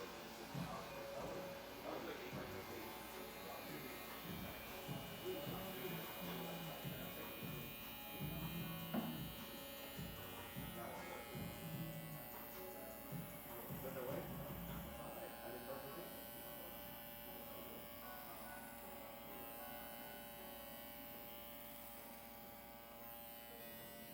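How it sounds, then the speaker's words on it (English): An electric clipper buzzes steadily at a barber as it shaves a line into hair, holding a continuous close hum with small scraping bursts, while people talk quietly in the background. "I'm just gonna shave the line in how I would have done it if it wasn't already done for me"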